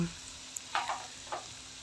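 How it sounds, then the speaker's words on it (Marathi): Light scraping of a spatula in a pan of soaked chana dal and onion for ridge gourd curry, three or four quick strokes over a faint steady sizzle, close by. "डाळ आणि कांदा एकत्र करते आहे"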